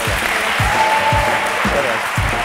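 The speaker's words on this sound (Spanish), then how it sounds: "Ana Polo, señoras y señores, un aplauso para" A TV studio audience claps loudly and continuously while a steady, regular low thump beats beneath the applause.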